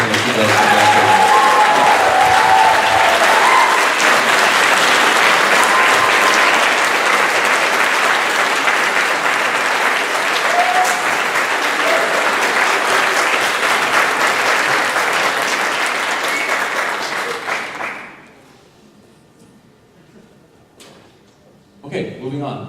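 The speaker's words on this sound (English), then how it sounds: "Everybody, please give a huge round of applause for Mrs." A huge round of applause at a high school band banquet, loud dense clapping from a large crowd with a few cheers, sustained for about eighteen seconds before cutting off sharply into near silence.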